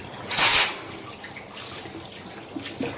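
Tap water running while washing dishes in a kitchen sink, a brief loud gush of splashing followed by a softer trickle and a few small drips.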